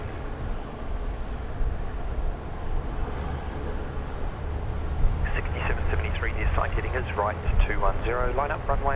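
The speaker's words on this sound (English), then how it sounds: "All Nippon Airways now coming out here at Alpha 1 for departure at 16 right." An All Nippon Airways airliner taxiing out to runway 16 right at Sydney Airport, a steady low distant jet rumble throughout, with someone talking over the second half.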